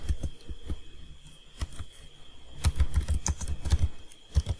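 Someone types on a computer keyboard nearby, producing sparse, uneven key clicks that quicken into a denser burst near the end, with a faint steady hum behind them.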